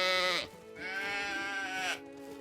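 Sheep bleat at a fold in Medieval Dynasty, two long wavering calls, the second one louder, close and clear.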